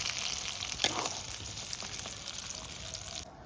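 Cumin seeds tempering in hot oil for a rui fish curry with cauliflower and potato, a dense continuous crackling sizzle heard up close, holding steady before cutting off near the end.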